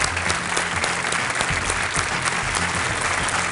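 Steady studio audience applause welcomes a contestant onto the KBC quiz show, dense continuous clapping throughout with no voices.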